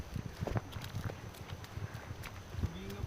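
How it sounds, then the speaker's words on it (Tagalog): Horse hooves clip-clop on hard ground along a hiking trail to a waterfall, faint irregular steps under wind, with people talking nearby. "May kabayo, ayun no."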